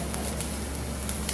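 Onions hit a hot pan and set off a steady, faint sizzle with soft crackles throughout.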